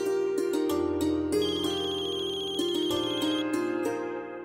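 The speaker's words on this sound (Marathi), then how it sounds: "वेणुबाईचा फोन आहे." A telephone ringtone plays loud and near, a repeating electronic melody of short tonal notes lasting several seconds with no talking over it.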